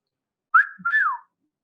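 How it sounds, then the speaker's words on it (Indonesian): A single clear two-part whistle, a sliding note repeated twice in quick succession, alone against silence. "Rombongan pria ini bersiul."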